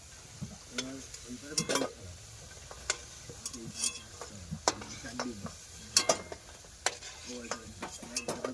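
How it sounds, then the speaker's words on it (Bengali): Food frying in a pan aboard a boat, with soft sizzling under repeated stirring scrapes and clinks of a utensil against the pan; voices occasionally nearby. "এই দেখো তো একবার ভেজে নিয়েছি, এরকম করে আমি সবকটা ভেজে নেব।"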